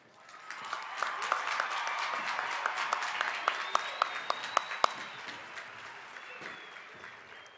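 Audience applause for graduates at a high school graduation ceremony, a broad steady wash of clapping from a large crowd with a few sharp nearby claps standing out, swelling and then holding for several seconds.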